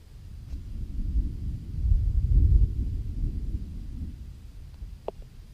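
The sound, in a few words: distant thunder rumbling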